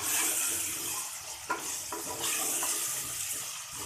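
Salt, turmeric and crushed chillies being mixed into a dish of potato, soya and fenugreek, with soft scraping and stirring clatter over a steady background hiss, with a few small knocks from the utensil.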